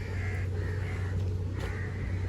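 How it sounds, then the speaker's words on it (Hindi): Crows caw repeatedly at Safari Park Karachi in a run of about three harsh, nasal calls. They sound moderately close over a steady low background hum. "इतने सारे कौवे हैं यहाँ पे।"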